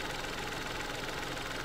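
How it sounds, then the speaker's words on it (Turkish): The 1.2-litre three-cylinder, 12-valve turbo petrol PureTech engine of a 2022 Peugeot 308 GT idles with slight vibration, a steady, even hum that stays close and continuous with no voices. "Motor 3 silindirli. O yüzden biraz titreşimli çalışıyor rölantide."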